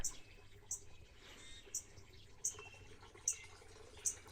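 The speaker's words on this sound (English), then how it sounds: "you can open the window and hear the little water fountain" A small water fountain trickles quietly in a spring cottage flower garden, giving off soft liquid burbling with repeated faint drips at roughly regular intervals, with no voices.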